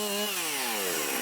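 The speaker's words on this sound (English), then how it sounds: "The chainsaw just melts through it, but it makes a bigger mess quicker." A chainsaw cuts through wood in a loud, close, continuous burst, its engine pitch sliding steadily downward under load.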